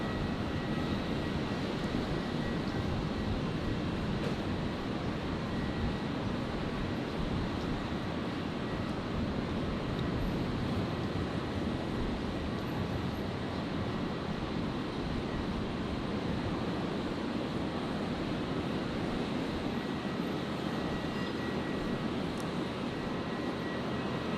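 Jetstar airliner arriving over the Gateway Bridge near Brisbane Airport, a continuous broadband jet roar heard from a distance that holds steady and dense throughout with no break.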